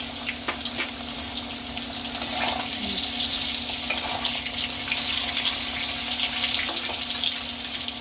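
Potatoes seasoned with salt and turmeric fry in oil in a kadai, giving a steady, close sizzling hiss that runs without a break and with no voices.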